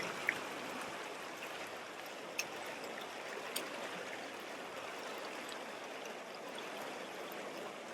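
Mountain stream rushing over rocks, a steady broadband wash of flowing water with a few faint splashes, continuous and fairly quiet with no voices.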